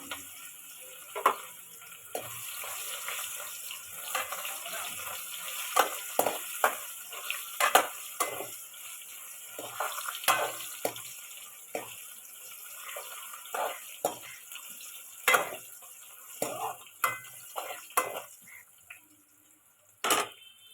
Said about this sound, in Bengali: এ দেখো ভালোভাবে ভাজা হচ্ছে পেঁয়াজটা